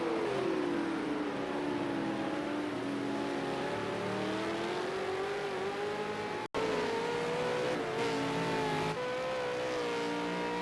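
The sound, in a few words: V8 Supercar race cars driving at Zhuhai International Circuit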